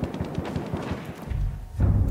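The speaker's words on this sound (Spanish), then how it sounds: "Vamos a disparar un cañonazo ahí." Cannon fire in the video game Battlefield 1, a rapid run of sharp gunfire bursts followed by two heavier, booming low blasts near the end.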